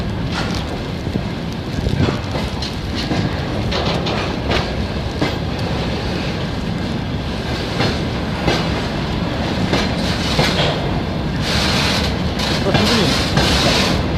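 Russian Railways train wheels clattering steadily over rail joints as a passenger train departs from a platform, a continuous loud rumble with rhythmic clicks throughout.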